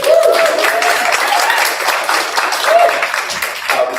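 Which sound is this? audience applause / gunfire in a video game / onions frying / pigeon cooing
audience applause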